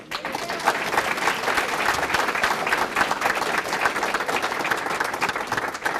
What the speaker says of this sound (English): So one more round of applause for all of our Above and Beyond award recipients.